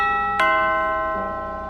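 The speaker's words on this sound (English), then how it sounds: "He rang the bell once" A doorbell chimes at a front door, a clear ringing tone with a sharp strike followed by a second softer note, the bright tones lingering and slowly fading.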